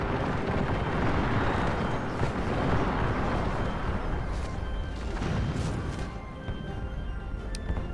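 Artillery fire in a Thirty Years' War battle video game at Nördlingen, a dense continuous rumble of distant cannon booms and battle noise blending into a loud, steady roar.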